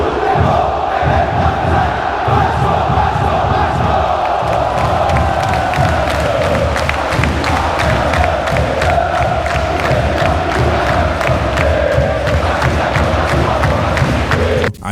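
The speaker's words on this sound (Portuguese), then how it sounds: "popularizou o famoso grito de guerra vascaíno" A football crowd of Vasco supporters in a packed stadium chants its famous war cry, a loud, continuous roar of massed voices with rhythmic claps and shouts running throughout.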